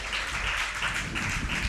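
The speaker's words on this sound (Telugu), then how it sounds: "చప్పట్లు కొట్టి దేవుని స్తుతిద్దాం." A church congregation claps together at a Telugu Christian sermon, a steady, dense patter of many hands that carries on without a break for the whole short stretch, with no talking over it.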